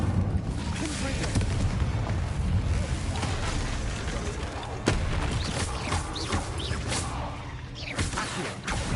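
The Confringo explosive spell goes off in Hogwarts Legacy: fiery blasts and whooshing bursts, dense and loud throughout, with a sharp explosive hit near the middle and continuous game effects around it.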